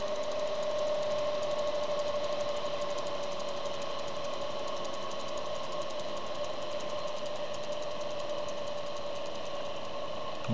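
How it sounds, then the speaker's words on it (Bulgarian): A three-phase asynchronous induction motor on an SPWM frequency drive hums with a steady tonal whine and a faint rhythmic rattle, continuous and fairly loud throughout, with no one speaking. "Реверсирам го и сега постепенно ще почне да пада скоростта."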